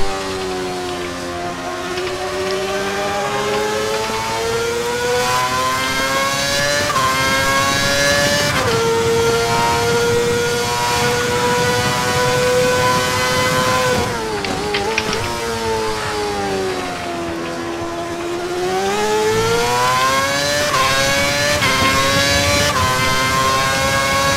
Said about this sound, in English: So it's just cars on track being douches.